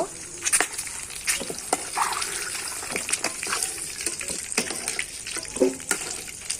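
Eggs dropped into hot oil and frying at home, a hissing sizzle with scattered clicks and scrapes of a spatula or pan, close and moderately loud with no talk.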